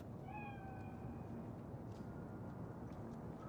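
A single drawn-out cat meow rises early and fades against a steady low background hum in Cyberpunk 2077, faint and alone.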